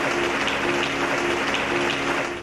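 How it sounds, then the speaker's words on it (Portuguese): Applause from an Assembleia de Deus church audience, a continuous wash of many hands clapping at moderate level with a steady background hum, fading at the end. "Momento que foi aplaudido por todos."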